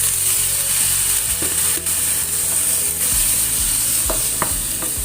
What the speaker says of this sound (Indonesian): Lalu sekarang kita tumis sebentar